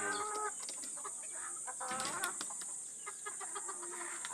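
Backyard chickens clucking and calling while being fed rice, with pigeons joining in, several overlapping clucks and short calls at moderate distance against a steady background hiss.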